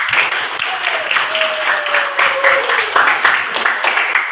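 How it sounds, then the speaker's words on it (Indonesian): Classroom applause for a student group: a steady, fairly close wash of many hands clapping, with a voice faintly sounding through it. "tepuk tangan untuk kelompok mereka"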